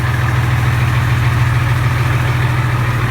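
A Farmall 560 tractor engine idles steadily up close, a loud, even low rumble with a constant throb and no break for the full three seconds.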